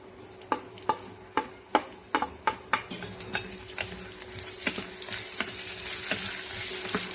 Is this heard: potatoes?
yes